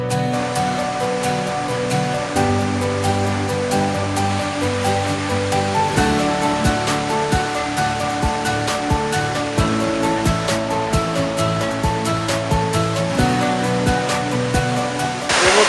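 A waterfall near Grozny sends out a steady, loud rushing roar of falling water that runs unbroken throughout, with a sustained tonal layer beneath it.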